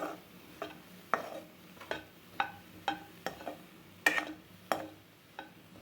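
Bitter gourd stirred in a kadai over a very low flame, a spatula scraping and tapping the pan in a steady series of sharp, close scrapes about every half second, with only a faint sizzle beneath.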